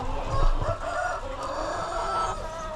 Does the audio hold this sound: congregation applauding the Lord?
no